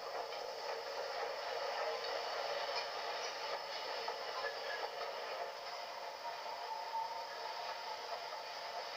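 A Black 5 steam locomotive arriving with a Dundee train in Scotland in 1965: a steady, fairly faint broadband rush and rumble of the train that holds evenly through the whole stretch, with no voices.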